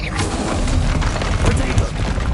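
A Confringo blast spell explodes in the Hogwarts Legacy video game amid constant loud, booming combat noise, with a dense rumble of blasts and impacts running throughout.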